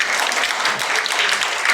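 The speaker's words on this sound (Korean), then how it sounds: "고생했던 우리 순천 매산중 학생들 박수로 보내드리겠습니다" Audience applause for students from Suncheon Maesan Middle School at a South Jeolla youth history inquiry contest: steady, dense clapping from a crowd that fills the whole short stretch at an even level.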